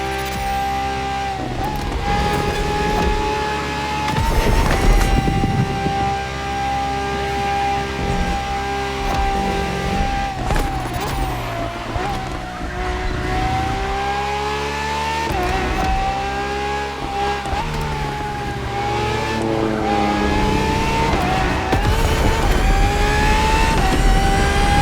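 Ferrari FXXK race car engine in The Crew Motorfest driving game, a loud sustained high-revving howl that climbs and drops through repeated gear changes, steady and close throughout.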